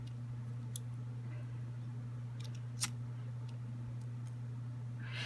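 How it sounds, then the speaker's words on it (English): Small scissors snip the tiny tip off a bracelet thread during bead crafting, heard as a few faint, brief clicks over a steady low hum, with one sharper snip in the middle. "I'm just going to cut that little tiny tip off with my wrong hand with the scissors"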